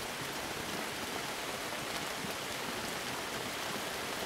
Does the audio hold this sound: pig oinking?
no